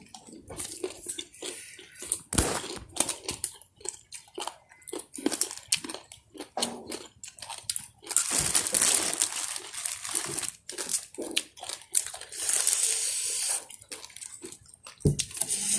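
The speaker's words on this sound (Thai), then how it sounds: "กัดในสมปองให้มันดังกรอบกรอบกรอบกรอบ" Crisp fresh eggplant is bitten and chewed close up alongside spicy Thai papaya salad, giving repeated loud crunches and wet mastication with brief pauses and no talking.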